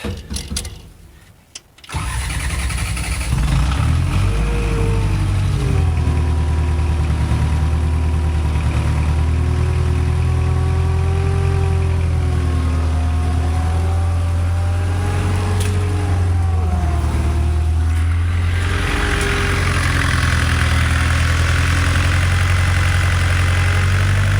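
A riding mower engine cranks briefly, then catches and settles into a steady, loud idle that continues close by, with no talking over it.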